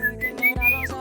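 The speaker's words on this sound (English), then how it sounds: "the kind of whistle that the man does" Whistling of El Silbón in a dark Venezuelan song: a clear, sustained whistled tone broken into short held notes, ending in a falling slide, set over low musical accompaniment.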